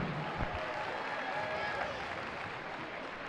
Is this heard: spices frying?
no